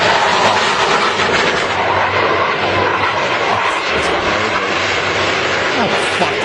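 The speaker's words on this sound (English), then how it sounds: "Can you hear the engines?" Propeller or jet aircraft engines roar continuously and loudly as planes fly close-formation maneuvers, a broad steady rumble that swells and fades slightly throughout, with people talking faintly beneath.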